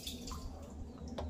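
Water drips slowly from a tap or hose connection being refilled, giving a few soft, faint drops over a low steady hum of background noise.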